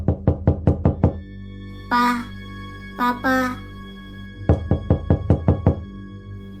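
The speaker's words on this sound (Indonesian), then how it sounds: "ada ketukan pintu dari tangan mungil yang terus-menerus menggemakan" Rapid series of sharp knocks on a door by a small hand, in two bursts at the start and end, with a voice calling out in between.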